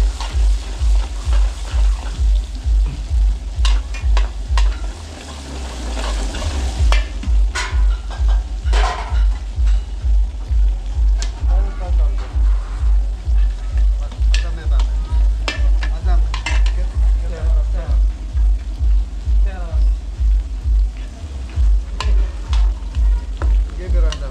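Onions and garlic sautéing in a large pan for a catering job, with steady sizzling and a regular scraping stir of a spatula repeating throughout, close and loud, with occasional voices in the background.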